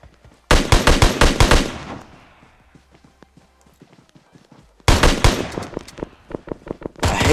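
Rapid bursts of gunfire from PUBG Mobile sound as loud, close, evenly spaced cracks. A quieter stretch of faint taps follows, and then another burst of quick shots.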